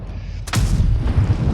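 A single heavy tank cannon blast in a video game booms out loud and close midway through, its rumble lingering over constant low engine drone.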